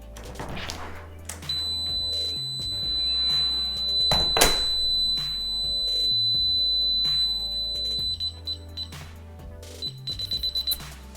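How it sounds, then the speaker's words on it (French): A DSC Power Series home security alarm rings a continuous high-pitched electronic tone for several seconds over background noise, followed by a quick series of short beeps. "le système d'alarme retentira comme à l'habitude."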